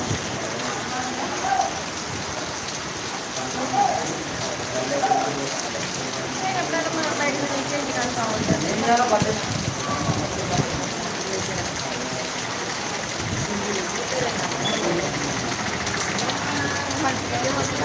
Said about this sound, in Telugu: మంగళవారం సాయంత్రం అకస్మాత్తుగా కురిసిన భారీ వర్షం